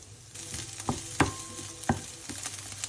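Red onion and leftover cooked chicken frying for Buldak instant noodles, heard as a steady close sizzle with a few sharp clacks of a utensil against the pan.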